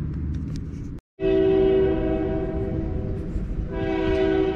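A train passes close by near a park, its loud horn sounding in long sustained blasts over a steady rumble of the cars, with a brief silent gap before the horn resumes.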